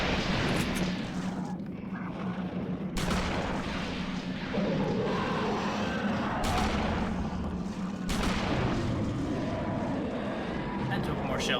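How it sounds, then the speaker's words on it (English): Repeated shotgun blasts in a video game, several heavy bursts at irregular intervals over a dense, rumbling game soundscape, with a voice talking through much of it. "Now you're gonna get a lesson in shotgun justice."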